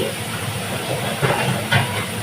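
Steady frying sizzle in a pan while cooking Malabar spinach, a broad hiss that holds throughout, with two brief louder spits partway through. No voices.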